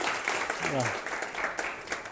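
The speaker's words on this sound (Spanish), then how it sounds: "un aplauso para el compañero de informática" An audience applauds at a talk or lecture, a moderate wash of clapping heard under and around a speaking voice.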